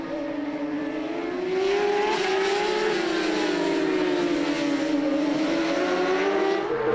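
Superbike motorcycles race at the Magny-Cours circuit, a loud sustained engine howl whose pitch rises and falls as the bikes pass, with several engines layered together for the whole stretch.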